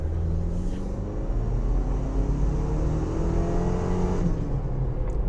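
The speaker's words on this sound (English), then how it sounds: "I'll accelerate one more time here." A 2025 Toyota 4Runner Trailhunter accelerating, heard from inside the cabin with the windows up: a muffled, low engine rumble that rises steadily in pitch as the revs climb, subdued and continuous.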